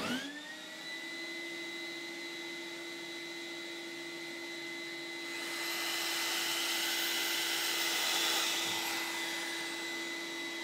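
A woodturning lathe spins a painted wooden platter with a steady motor whine while 400-grit abrasive is pressed to the rim, adding a broad hissing rush partway through that builds, then eases off.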